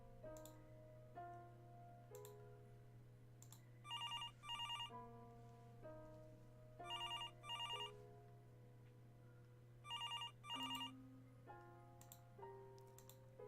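An old-style landline telephone rings in repeated double bursts, three rings spaced a few seconds apart, over soft background music with a low steady hum, faint and with no talk.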